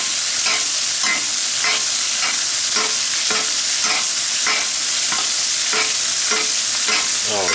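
A 36 oz ribeye sizzles loudly in a pan as it is basted with butter, a constant close frying hiss broken by rhythmic spoon scrapes about twice a second.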